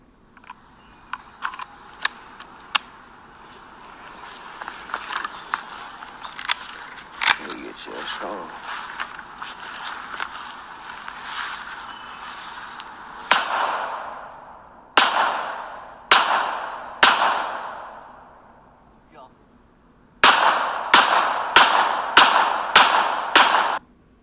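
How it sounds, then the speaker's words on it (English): Firearm shots ring out in a series of sharp, loud cracks, several single reports followed by a rapid cluster of five near the end, each with a short decaying tail, mixed with fainter clicks and handling noise. "There have been other videos of Weber firing a firearm."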